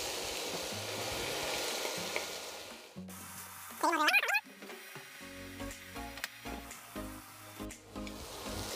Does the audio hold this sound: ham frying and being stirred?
yes